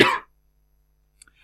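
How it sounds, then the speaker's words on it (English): A single close, sharp cough bursts out at the very start, followed by near silence and a couple of faint small sounds, with no talk in between. "I've got a cough at the moment, so I'm just going to have to cough now"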